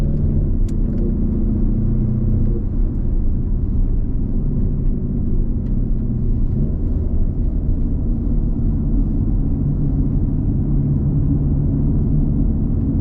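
Porsche Cayenne Coupe driven around the Sepang racing circuit, heard as a steady, loud low cabin rumble of engine and road noise with no break throughout.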